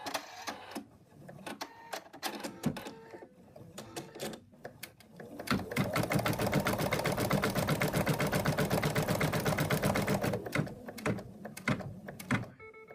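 An embroidery machine stitches a placement line for a cat's arm, starting with scattered taps and clicks and then settling into a steady, dense run of rapid mechanical stitching, close and clear, before slowing again.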